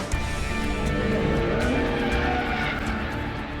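Cars driven fast around the Nürburgring during open tourist drives, a dense continuous engine roar with overlapping revving and a hint of tyre squeal, loud and steady throughout.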